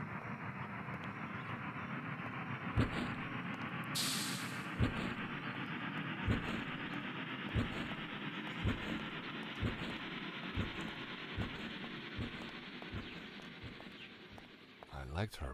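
In a video game, a train rolls along with a steady low rumble and evenly spaced clickety-clack beats. A short hiss cuts in partway through, and a voice speaks faintly underneath.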